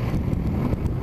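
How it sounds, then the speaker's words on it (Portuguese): Strong wind buffets a microphone beside a highway along the salt flats of the Potiguar coast, a loud, continuous low rumble with gusty swells. "o vento tá muito forte, eu não sei como é que vai estar o áudio aí"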